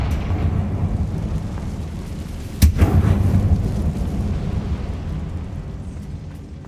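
A Confringo explosion spell cast in Hogwarts Legacy goes off as a single sharp blast partway through, trailing into a rumbling decay over a steady low ambient roar.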